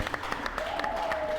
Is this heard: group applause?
yes